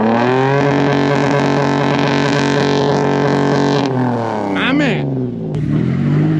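White Toyota off-road vehicle revving hard on a dirt overlanding trail, a loud, steady high-rpm engine drone that drops off near the end, with a short spoken remark over it.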